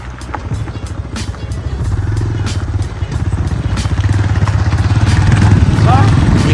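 A TVS Raider motorcycle rides alongside at night, its engine a steady close putter with rapid firing pulses under continuous road noise, while people talk over it.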